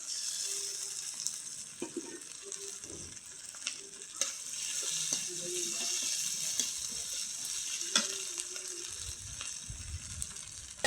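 A paste of onion, green chili, ginger and cumin fries in hot oil with a steady, fairly quiet sizzle, broken by occasional light clinks and scrapes of stirring.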